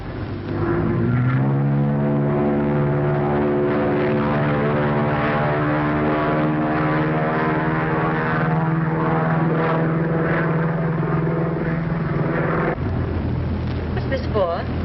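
A propeller airplane engine drones steadily in flight aboard a 1932-era aircraft, a loud continuous hum with rising pitch at the start and an abrupt drop near the end, while people talk over it.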